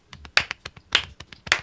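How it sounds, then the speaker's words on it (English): A run of sharp slapping claps, roughly a dozen quick hits in an uneven rhythm, close and fairly loud, from a standing belly clap with hands striking a bare stomach. "Standing belly clap."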